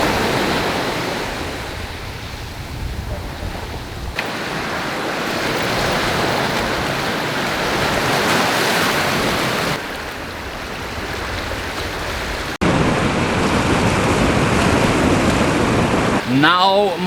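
Ocean surf washes steadily onto a beach at Huatulco, Mexico, a continuous broadband roar of breaking waves with wind gusting across the microphone, staying loud and close for the full stretch with no talk.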